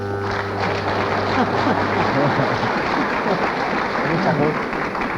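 Studio audience applauding on a 1966 football quiz show, dense sustained clapping, with a brief low buzzer tone at the start fading into it and a voice briefly heard under the noise.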